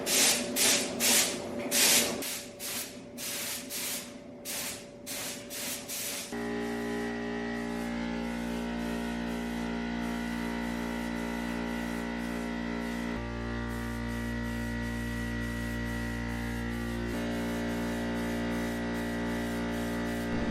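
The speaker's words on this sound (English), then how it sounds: "I'm gonna put the respirator on, and we're gonna go ahead and lay down the first coat." Several short hissing bursts from a spray gun laying paint on car bumpers in a rhythmic pattern, followed by a long stretch of steady humming machinery with a constant tone.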